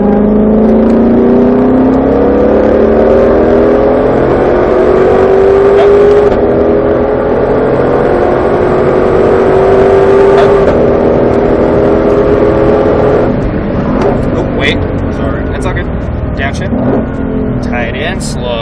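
A Ford Mustang Shelby GT500 engine drones steadily on a track, its pitch climbing and falling with throttle, then a busier stretch near the end; an instructor's voice talks over it.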